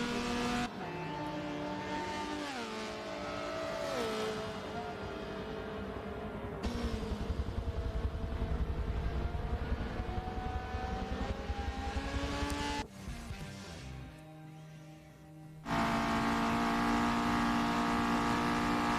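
Race cars, including a tuned Honda and little MX-5s, lap a circuit in an endurance round, engines screaming and shifting through rising and falling pitches, loud and near, with abrupt cuts as the view changes and cars pass.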